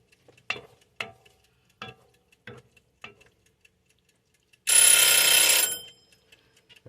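A cooking timer alarm goes off in a kitchen while caramelized onions are being made, a loud continuous ringing burst lasting about a second after several quiet clicks and clatters of cooking.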